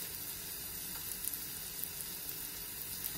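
Rice sautés in a hot pan for fried rice, giving a steady broadband sizzle with faint crackles and occasional stirring scrapes, close and continuous with no voice.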